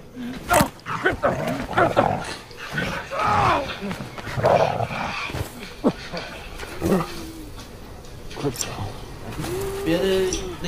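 Dog vocalizations, growls, barks and whines from a Superman film clip recur irregularly amid sharp noises and other animal-like sounds, loud and close.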